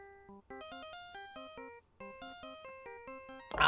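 A bright ringtone melody, the Steel Samurai theme from a video game, plays in quick, bouncy repeating notes, cut off by a brief burst of noise at the end.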